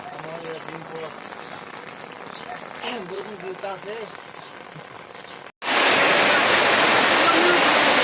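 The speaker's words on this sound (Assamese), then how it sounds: "এইয়া বৰষুণ পৰি আছে" Heavy rain pours down in a village, starting as a soft wash under a voice that talks at length, then after a brief gap breaking into a loud, dense, steady roar.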